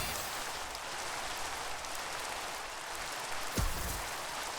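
Rain summoned by Politoed in a Minecraft Pokémon battle from the All The Mons modpack, a steady broadband hiss of falling rain at low volume, interrupted near the end by a brief thumping game sound effect.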